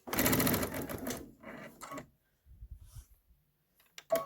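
A sewing machine stitches down a quilted pillow in rapid, loud whirring runs that stop and start, followed by softer taps and a few sharp clicks near the end.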